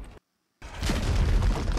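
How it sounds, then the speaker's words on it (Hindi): Cannon fire in a Pirates of the Caribbean: The Curse of the Black Pearl film scene: a brief dead silence, then a sudden heavy boom that swells into a long, rolling, rumbling blast. "cannon fire"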